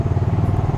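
A motorcycle hums and rumbles steadily at close range while threading through town traffic in Gumaca, Quezon, a low, continuous engine drone lasting under a second with no talk.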